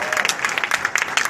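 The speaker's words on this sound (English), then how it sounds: "Give them a great round of applause" A rally crowd claps for a Nepalese American rally for Hillary Clinton in Washington DC, a dense burst of clapping close by with cheers and voices mixed in.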